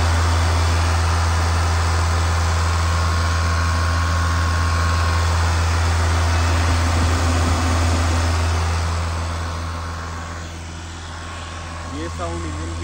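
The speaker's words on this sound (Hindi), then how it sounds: "ये साउंड इंजन की 2500 RPM पे है।" A Mahindra Scorpio N Z8 diesel engine holds around 2500 RPM with a steady droning hum and low rumble, close and continuous, easing slightly near the end while someone talks over it.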